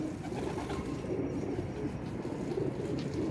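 A pigeon coos in low, soft, throaty murmurs that repeat steadily through the short stretch, heard close by, with no one speaking.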